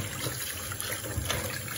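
Tap water runs steadily as lettuce is rinsed for a salad in a home kitchen, a continuous close splashing stream without pause.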